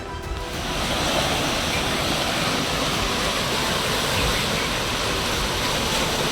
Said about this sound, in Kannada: ಹನ್ನೆರಡು ಗೇಟ್ಗಳನ್ನು ಓಪನ್ ಮಾಡಿ ನೀರು ಹೊರಕ್ಕೆ ಬಿಡಲಾಗ್ತಿದೆ